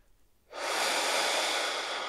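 A single deep, forceful breath rushes close to the microphone, starting after a brief pause and holding steady to the end, with no talk.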